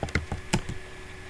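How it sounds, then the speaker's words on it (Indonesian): Keystrokes on a computer keyboard as a new password is retyped for a user account, a handful of sharp, irregular taps clustered in the first half, then quiet room tone. "Kita disuruh untuk mengetik ulang sandi yang baru saja untuk user tadi."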